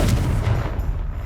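A Confringo blasting spell goes off in Hogwarts Legacy, a loud, heavy explosive boom with a deep rumbling body that fills the moment and slowly trails away.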